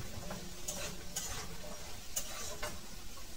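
Potatoes frying in oil, with a soft continuous sizzle broken by a few sharp clicks and scrapes of a utensil stirring in the pan.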